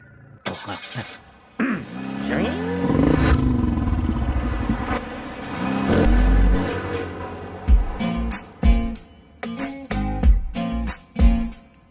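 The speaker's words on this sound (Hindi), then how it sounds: "तू गाड़ी चला।" A car engine revs and surges as it is driven, loud and close, with rising and falling pitch over several seconds, then a run of sharp clattering knocks and thumps near the end. No speech.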